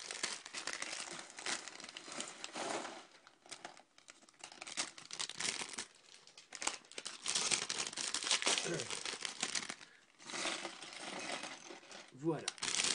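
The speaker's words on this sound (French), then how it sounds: "on va pouvoir ouvrir les deux sachets" Plastic bags of LEGO pieces being torn open and crinkled, giving a close, busy run of rustling and crackling with small parts rattling, under intermittent soft talk.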